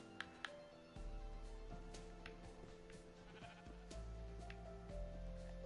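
Sheep bleating in a blocky building game, a few short bleats near the start over steady game music and ambient tones that continue throughout.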